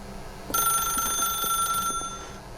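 A telephone rings in the video game The Stanley Parable, a bright electronic trill repeating steadily for about a second and a half, moderately loud, then stopping abruptly with a faint ringing decay.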